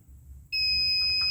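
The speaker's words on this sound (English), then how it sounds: "Wait for the beep." After a moment of low hum, a loud, piercing steady electronic beep from a carbon pile car battery load tester starts abruptly and holds.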